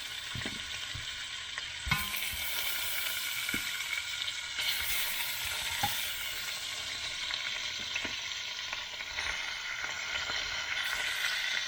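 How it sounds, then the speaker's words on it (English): Short ribs searing face down in a hot pan, a steady loud sizzle and frying hiss running throughout with occasional faint clinks, no one talking. "now we're going to put the short ribs in face down. And the idea here is just to give a little bit of a brown to them"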